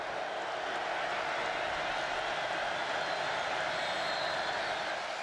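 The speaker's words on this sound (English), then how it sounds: "the crowd got loud" A football stadium crowd at Akron versus Oklahoma roars in a loud, sustained wash of noise, constant and dense throughout.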